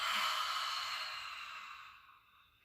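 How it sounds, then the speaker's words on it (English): Breath blown out through the mouth during a yoga breathing exercise, a single long airy exhale that starts fairly loud and close, then fades steadily over a couple of seconds, with no talking. "And then blow it out the mouth."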